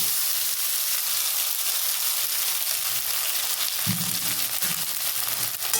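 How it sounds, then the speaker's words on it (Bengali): Soaked sago pearls (sabudana) fry in a pan with a steady, close hiss, and a few low stirring thumps come in about two-thirds of the way through. "সাবুদানাগুলো আমি ভালো করে ভেজে নেব"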